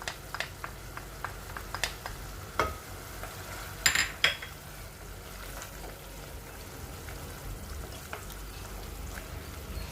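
Soft, continuous sizzling from a pan as garlic sautés, with scattered taps of a spoon and one louder clatter partway through.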